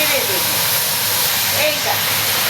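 Sizzling hiss of a ginger, garlic, onion and tomato paste dropped into hot oil while cooking katla fish in curd, a steady broad spray of frying noise with a voice talking over it.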